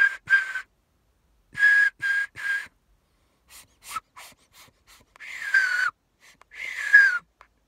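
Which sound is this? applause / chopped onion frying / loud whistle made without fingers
loud whistle made without fingers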